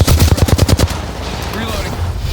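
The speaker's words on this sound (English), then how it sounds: "The enemies are shooting." Rapid bursts of automatic gunfire from the Apex Legends video game crack loudly over the first second, then give way to quieter game ambience with faint shimmering effects.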